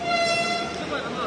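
At Lahore railway station, a train hums and rumbles close by with a steady tonal whine, a loud continuous wash of platform and engine noise over the whole short stretch.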